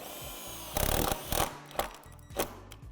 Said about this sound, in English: using a self-tapping screw to drill through the divot and the metal in the underlying tube